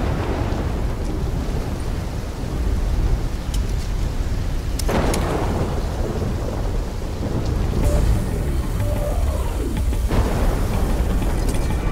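A thunderstorm in the Black Ops III video game: heavy, constant rain roars throughout, broken by a few loud, sharp thunder cracks and rumbling booms.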